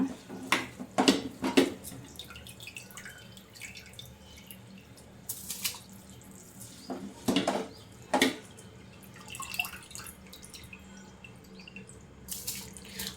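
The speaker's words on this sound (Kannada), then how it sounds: "ಇವಾಗ ನೀರು ಕುದೀತಿದೆಯಲ್ಲ ಇವಾಗ ನಾವು ಅಕ್ಕಿ ಹಾಕೋಣ" Washed rice goes into a pot of boiling water for tomato bath, with a few soft, splashy bursts and quieter bubbling in between, fairly faint overall.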